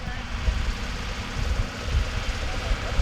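A Ford Mark II Escort hillclimb car with a Pinto engine idles steadily at Longleat, a low rumbling hum that stays constant and fairly loud throughout.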